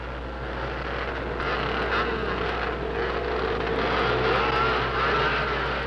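Several 1971 Yamaha racing motorcycles roar around an indoor short track, a dense, continuous engine drone with rising and falling revs as riders jostle, steady and loud throughout.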